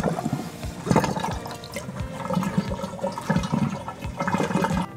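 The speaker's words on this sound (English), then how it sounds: "I'm gonna pull the drain." Water drains out of a bathtub after the drain is pulled in a house with a septic system, a gurgling, rushing flow with bubbling pulses, fairly close and steady without speech.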